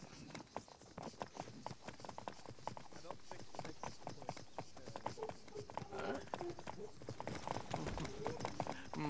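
Rhythmic clip-clop of horse hooves in a video game at a quick galloping pace, continuous throughout, with a faint voice underneath.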